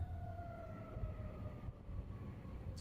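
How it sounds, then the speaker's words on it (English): A fire truck drives past with its siren wailing in long, steady rising tones, heard from inside a moving Tesla Model X over constant road and cabin rumble. "the sound you heard was a fire truck driving past us"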